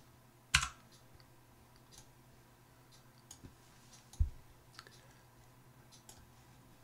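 A computer mouse clicks and drags in CAD sheet-metal modelling software, a few sharp isolated clicks spaced irregularly and close by, with faint quieter ticks between them in a near-silent room.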